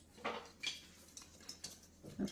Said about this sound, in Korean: 그냥 골고루 섞어주시면 되거든요